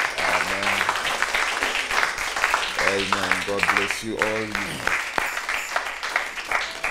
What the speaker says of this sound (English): We can just welcome God's presence as well with a hand clap of appreciation.